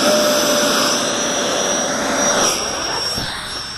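An F-22 Raptor model jet with a 70mm electric ducted fan screams at full throttle, a loud, steady high-pitched whine close by that shifts slightly in pitch as it is thrown.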